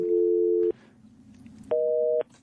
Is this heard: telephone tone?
yes